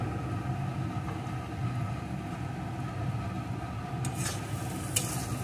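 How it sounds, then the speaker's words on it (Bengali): Egg bhurji seasoned with kasuri methi and garam masala is stirred in a hot pan, giving a continuous sizzle with soft scraping. A couple of sharper spatula scrapes come near the end, and no one speaks. "আর একটু নাড়িয়ে নেব"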